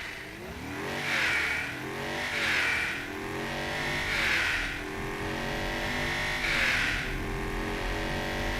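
Heavy luxury SUV weighing nearly 3,000 kilograms accelerating hard, the engine climbing through gears in repeated rising surges, steady and fairly close with no talk.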